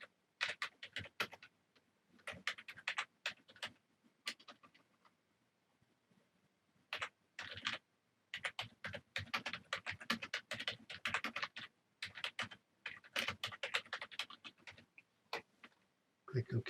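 Bursts of quick key clicks on a computer keyboard while a comment is typed, clustered runs separated by short pauses, fairly close and moderately loud.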